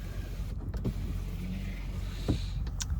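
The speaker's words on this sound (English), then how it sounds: "power rear sliding window" A small electric motor for the power rear sliding window of a 2024 Ford F-350 pickup whirs briefly, with a few clicks and thumps around it in a quiet cab interior.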